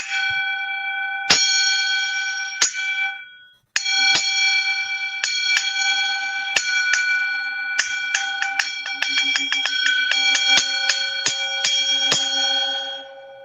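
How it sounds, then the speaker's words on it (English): A bell is rung repeatedly, its bright ringing tone struck again and again with sustained overlapping decays, a brief gap partway through, then steady strikes continuing until the end. "I'm going to ring the bell in 1,"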